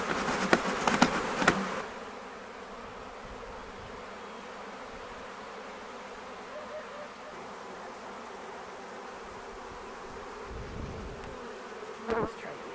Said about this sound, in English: I got bees on my back.